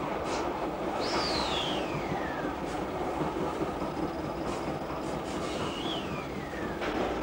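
A Docklands Light Railway train running north toward Stratford: a steady rolling rumble of wheels on track with a continuous hum and two high descending wheel squeals, heard alone without any talking.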